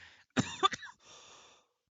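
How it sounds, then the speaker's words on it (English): A single close cough burst from a chronic cough, followed by a rough throat clearing, with a brief breathy tail, then quiet. "I have a cough that just won't leave."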